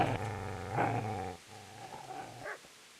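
A dog growls low and throaty in the medieval game Kingdom Come: Deliverance, close and loud in rumbling bursts that trail off into softer whimpering snarls.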